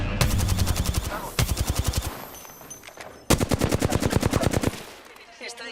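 Rapid automatic gunfire in a video game, loud bursts of evenly spaced shots broken by short pauses, with faint talk in the background.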